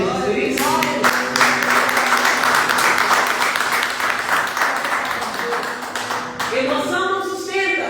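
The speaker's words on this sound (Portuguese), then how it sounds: "Será que você pode aplaudir Jesus por isso?" Loud, sustained applause from a large church congregation, dense clapping filling the whole stretch with a few faint voices mixed in.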